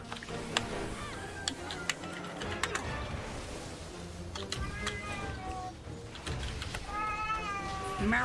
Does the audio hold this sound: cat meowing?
yes